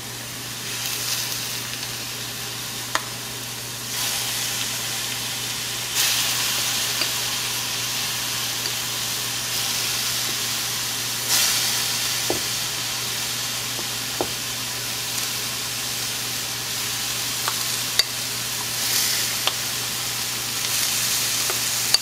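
Red or green salsa with beef or shrimp sizzles steadily in a hot stone molcajete, a continuous close frying hiss with a few small knocks and pops scattered throughout.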